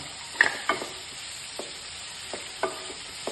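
Tomato, ginger, garlic and green chillies sizzle in a pan while being stirred, with a few scraping strokes and soft clatters over a steady frying hiss, close and moderately quiet.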